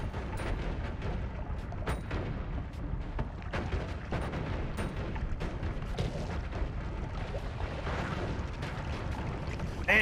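Continuous rumbling blasts and crackling booms from explosions in the video game Noita, dense and sustained with sharp transient pops scattered throughout, loud and steady for the whole stretch with no talking.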